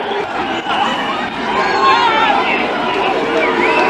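A dense crowd of lockdown protesters in Melbourne surges against a police line, a loud continuous roar of chatter, shouting and footsteps up close with no single voice standing out.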